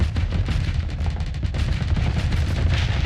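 Ship weapons in Starsector firing steadily with an accelerated ammo feeder active, a thick, continuous barrage of rapid booming shots with no letup across the whole stretch.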